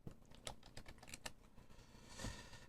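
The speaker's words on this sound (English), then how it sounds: "Let me type it in." Quick, soft clicks of typing on a computer keyboard, a short burst of keystrokes heard quietly and close.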